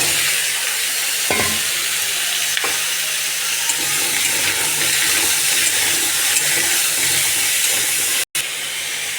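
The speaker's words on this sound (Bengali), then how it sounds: "এইবার দেখো, ওই তেলেই আমি কুমড়োগুলোকে দিয়ে দেবো।" Pumpkin pieces sizzling in hot oil in a pan after other fried items are lifted out, a loud steady hiss with a few soft stirring knocks and a brief dropout near the end.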